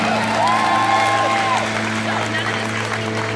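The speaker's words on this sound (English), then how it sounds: "give them all a round of applause" A crowd at a Fear Factor Live stunt show applauds and cheers for the contestants. A short burst of clapping and whoops plays under an announcer's voice.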